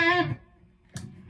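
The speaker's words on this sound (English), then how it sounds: "Let's hear it with drive." An overdriven Epiphone Les Paul electric guitar rings out a single gritty note that fades, then a second chord is struck briefly.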